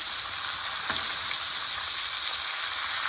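A strip steak sizzling loudly and steadily in a pan while being basted with butter, herbs and garlic, a close, continuous hissing fry with a faint spoon clink.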